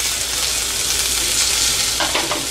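Chopped tomatoes and onions with kasuri methi leaves sauté in a pan for a Chettinad chicken curry, giving a loud, constant sizzle with a few scraping stirs toward the end.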